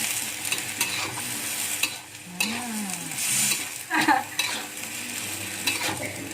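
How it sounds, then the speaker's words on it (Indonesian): Utensil scraping and stirring through mushrooms in sweet soy sauce sizzling in a pan, with a steady frying hiss and a few clinks of metal on the pan. "kita aduk rata ya"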